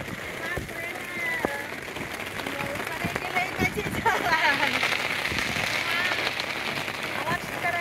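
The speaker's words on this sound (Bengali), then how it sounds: "বৃষ্টি হচ্ছে প্রচণ্ড বৃষ্টি হচ্ছে" Heavy rain pours onto Dal Lake in Srinagar during a shikara boat ride, a dense, steady patter with scattered sharp drops, while people talk faintly underneath.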